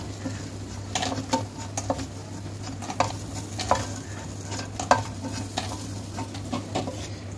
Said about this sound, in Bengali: বড়িটাকে আমি রং ধরা অবধি এরকমভাবে নেড়ে চেড়ে ভেজে নেব।